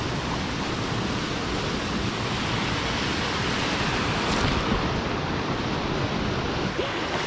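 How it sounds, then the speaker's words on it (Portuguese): A steady, dense roar of rushing water fills the whole clip, constant and close, from a waterfall at an abandoned mine. "chegamos na cachoeira da mina abandonada"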